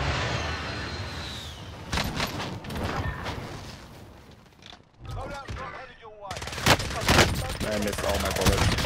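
Gunfire in Call of Duty Warzone, with bursts of rapid shots under a player's voice, a brief quiet gap midway, then more loud firing closing out the stretch.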